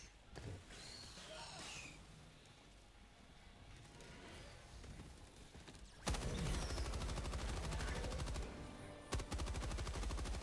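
Bursts of video game gunfire from Helldivers 2, sharp rapid shots and heavier railgun blasts, crackle in clusters, growing louder and denser in the second half with a strong impact near the end.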